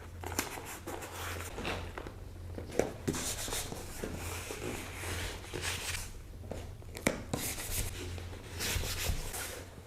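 Packing tape is pulled and pressed onto a cardboard box holding pottery for shipping, with close, fairly quiet rubbing, crinkling and a few sharp tearing pops spread unevenly through the stretch.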